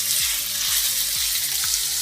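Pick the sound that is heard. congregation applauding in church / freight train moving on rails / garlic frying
garlic frying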